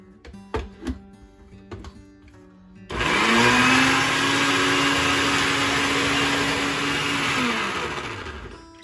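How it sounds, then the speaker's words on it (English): After a few clinks and knocks, a blender roars to life and whirs steadily for about six seconds pureeing fruit for fruit leather, then winds down, loud and close with no talking. "Mix things around a little bit in there to get everything nice and blended up"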